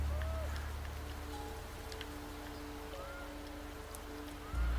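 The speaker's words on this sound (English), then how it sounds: "I've already gathered a decent amount of food from this rainy day." Soft, steady rain hisses throughout a nature-survival video game scene, faint and continuous, with light tonal game sounds drifting over it.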